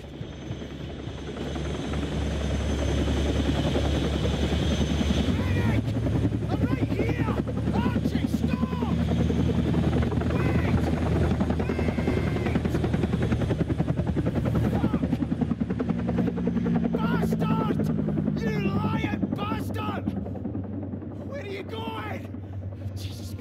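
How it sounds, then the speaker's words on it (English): Helicopter in the video game Still Wakes the Deep, a loud continuous rotor thump and engine drone that holds throughout, with shouting voices over it. "Why do I feel like that chopper's gonna crash?"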